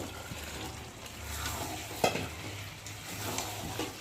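Chicken and fried potatoes for a country chicken curry sizzle steadily in a pan, with a constant frying hiss, a low hum beneath, and one sharp clink of a utensil midway.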